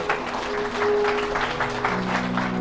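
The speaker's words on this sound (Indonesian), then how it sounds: "Tepuk tangan untuk Tuhan Yesus" Congregation applause in an Indonesian church service, steady dense clapping over a sustained keyboard or organ drone, filling the space without speech on top.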